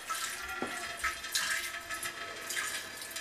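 Water trickles out of a popped paint bubble on a freshly painted wall, a soft, steady close-up splashing with a few small drips and spatters over about three seconds and no talking.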